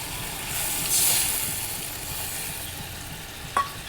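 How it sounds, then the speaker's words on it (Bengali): Spice paste sautés in oil in a pan for a fish and brinjal curry, giving a soft, steady sizzle with faint stirring, then a brief sharp clink near the end. "মশলা কষানো হয়ে এসছে দেখো বন্ধুরা তেল ছেড়ে দিয়েছে"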